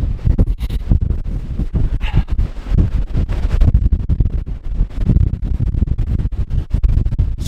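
Strong gusty wind on Cherni Vrah mountain peak roars and buffets the microphone continuously, a loud rumbling rush with crackling bursts and no voices.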